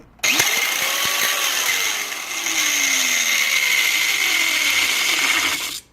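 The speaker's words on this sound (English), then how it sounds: "That's the sound of broken gears." An angle grinder with broken gears, damaged while cutting a car's wheel well, runs continuously with a harsh, loud grinding whine and a falling pitch sweep, stopping abruptly at the end.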